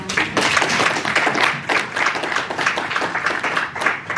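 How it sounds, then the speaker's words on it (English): Audience applause at a coalition building meeting, dense steady clapping filling the whole stretch at a fairly loud level, with no clear pauses. "Let's give him a hearty clap."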